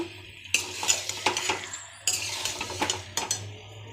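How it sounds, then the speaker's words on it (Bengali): Meat is stirred into fried spice masala in a pot, with loud, close scrapes and clinks of a metal spoon in bursts over a soft sizzle. "এবার আমি মাংসগুলো একে একে দিয়ে দেবো খুব ভালো করে মিশিয়ে নেব"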